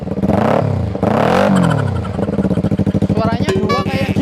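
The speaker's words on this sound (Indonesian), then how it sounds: "Stereo kalau dari samping depan suaranya juga dua boy." Yamaha Vixion motorcycle fitted with two exhausts, engine revving up and down in loud repeated bursts with a rough clattering idle between, close by, while someone talks over it.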